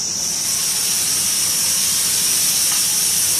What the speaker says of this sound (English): sizzle it up for serving.